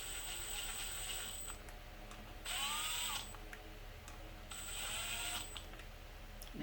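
A ratchet wrench snugs down turbo bolts during a turbo rebuild on a 2007 GMC Sierra 2500HD Classic Duramax, with quick bursts of clicking ratchet strokes, close and fairly quiet, between pauses.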